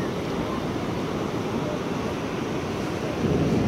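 Strong ocean surf at Barra de Santiago roars as a steady, dense wash of noise, with wind buffeting the microphone and the wave sound swelling slightly louder near the end.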